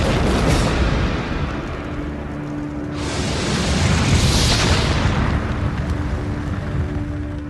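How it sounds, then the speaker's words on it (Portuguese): Massive explosion as a shell detonates 300 tons of ammunition in a warship's magazine, a deep rumbling roar that swells into a second loud blast and sustains, heard alone. "E explode em seu paiol, detonando 300 toneladas de munição."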